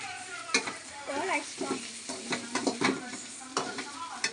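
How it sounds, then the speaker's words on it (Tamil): Onions sautéing in a pan before tomatoes go in, a soft steady sizzle broken by scraping stirs and clinks of a utensil against the pan, with a voice speaking nearby. "நல்லா வெங்காயம் வதங்கினதுக்கப்புறம் தக்காளியை போடணும்"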